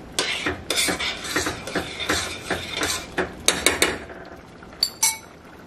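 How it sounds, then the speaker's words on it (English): A utensil scrapes and clanks against a metal pot of boiling rice for arroz con leche in quick, irregular strokes, close by, with a few sharper knocks near the end. "What I'm gonna do is just stir it."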